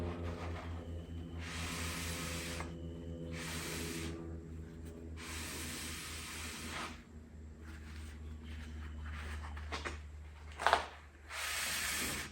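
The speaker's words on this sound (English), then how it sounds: "Give the back a little preliminary hit of cleaner. Then I'll give it a little on the shop towel as well." Brake cleaner hisses in several bursts of spray onto the back of a disc brake rotor during a 1957-1962 Plymouth disc brake conversion, the bursts separated by quieter pauses, close and fairly loud, followed by soft rubbing from a shop towel.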